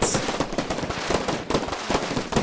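Turrets in modded Minecraft fire a rapid, dense stream of popping shots, loud and close, with the bursts running nearly continuously over a couple of seconds.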